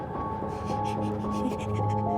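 Ominous scary-movie music plays, with sustained low drones and dissonant held tones under faint scratchy textures, at a constant, moderate level and without voices.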